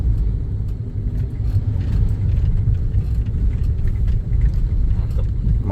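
A Suzuki Ertiga fitted with a Blackcore upgrade accelerates, its engine giving a loud, close, continuous low rumble and whir from inside the car, without speech.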